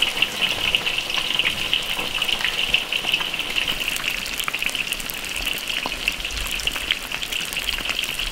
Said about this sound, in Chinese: 把那个刁子鱼给它炸熟，下锅之后也不要动它，